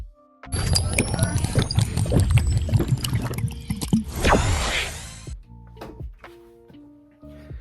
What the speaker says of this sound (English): I'm going to take a sip of water really quick.